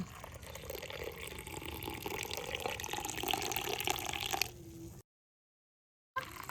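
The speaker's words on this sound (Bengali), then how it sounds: "এবারে চাটা এইভাবে ঢেলে নেব" Milk-free tea being poured from a pan, a steady close trickle of liquid for several seconds that stops abruptly, followed by a brief silence.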